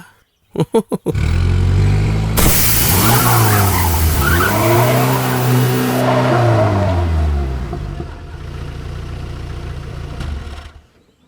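A car with a punctured tyre skids hard, giving a long, loud tyre squeal with engine roar that rises, holds for several seconds, then fades. A few sharp knocks come just before it, and no one speaks.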